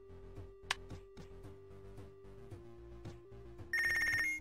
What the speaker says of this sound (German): Oh, Telefon schon wieder.